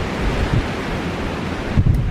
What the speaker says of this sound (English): Now the wind's really getting a bit stronger.